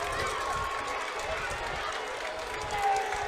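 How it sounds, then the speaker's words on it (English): A crowd at a high school varsity football game between the Warren G. Harding Raiders and Youngstown Ursuline murmurs and stirs in a steady broad roar, with an announcer's voice carrying over it. "Hearing a mix of reaction here from the crowd."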